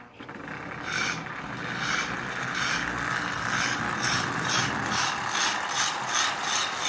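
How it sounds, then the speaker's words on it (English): Lionel 8213 model train locomotive and tender pulling twelve cars rattles along the track with a continuous mechanical whir and rhythmic clicking, steady and close. "This locomotive is running really,"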